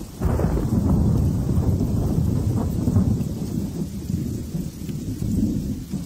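Radio drama sound effect of steady rain with rolling thunder in a 1940s horror-style city, a continuous loud, dense wash with deep rumbling throughout and no voices.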